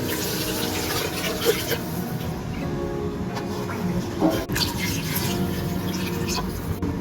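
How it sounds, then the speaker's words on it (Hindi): Water pours and splashes into a cooking pot of pulao, with faint clinks and background noise throughout. "अब हम इसमें पानी ऐड करते हैं।"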